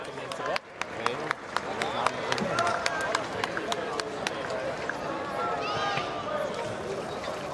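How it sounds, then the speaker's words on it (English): A racecourse crowd applauds jockey Jason Watson at a horse race trophy presentation, a dense wash of clapping with sharp individual claps and crowd murmur throughout, loud and sustained. "please a warm round of applause for Jason Watson"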